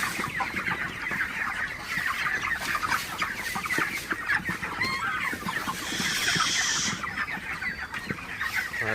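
Broiler chickens cluck continuously inside a poultry shed, a dense close chorus of overlapping calls with no pauses, steady and fairly loud throughout with no speech.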